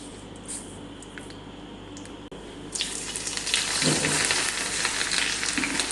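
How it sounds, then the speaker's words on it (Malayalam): Quiet kitchen sounds give way to a sudden loud crackling sizzle as mustard seeds hit hot oil in a small pan for sambar, the spitting continuing close and intense. "ഒരു ചെറിയ ചീനച്ചട്ടി വെച്ച് അതിലേക്ക് കുറച്ച് എണ്ണ ഒഴിച്ച് കടുക് ചേർത്ത് കൊടുക്കുന്നുണ്ട്"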